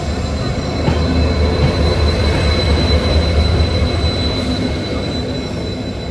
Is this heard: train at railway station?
yes